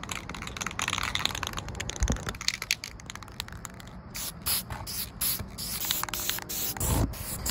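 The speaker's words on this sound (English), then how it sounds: "I didn't know where I'd be able to spray paint" A spray can hisses steadily in a back alley as paint is sprayed, with rattling and crackly bursts over the continuous spray, close and fairly loud throughout.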